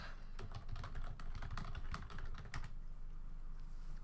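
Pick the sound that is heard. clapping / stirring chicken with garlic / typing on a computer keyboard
typing on a computer keyboard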